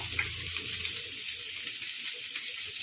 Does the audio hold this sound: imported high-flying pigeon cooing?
no